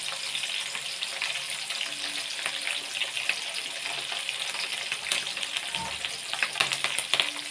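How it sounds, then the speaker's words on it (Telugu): Onions frying in a pan with curry leaves and green chillies, a steady dense sizzle with crackling pops and occasional stirring scrapes, close and continuous throughout. "ఎర్రగడ్డ బాగా కలుపుకొని ఎర్రగడ్డ బాగా వేగేదాకా వేయించుకోవాలి."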